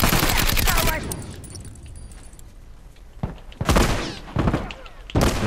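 Gunshots in The Last of Us multiplayer, with a sustained burst of rapid fire at the start, then a quieter stretch and several more sharp, loud shots near the end.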